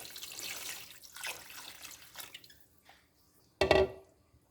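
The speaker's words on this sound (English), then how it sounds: "we're gonna add a little bit of water to this" Water splashes and trickles into a pot of chicken vegetable pasta soup in short bursts, followed by a brief, louder sloshing pour near the end and then quiet.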